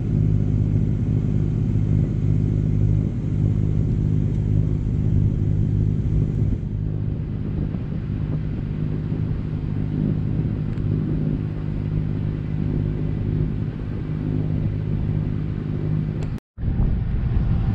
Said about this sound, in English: We're just motoring at the moment